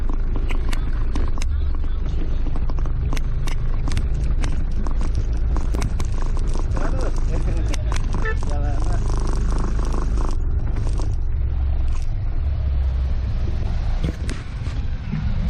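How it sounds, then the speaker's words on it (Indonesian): An automatic motorbike pulls away with a steady throttled engine drone on a rough, bumpy road. Heavy wind buffets the microphone and sharp knocks from jolts punctuate the ride throughout. "Setelah beberapa saat saya kembali menarik gas sehingga motor dapat melaju kembali."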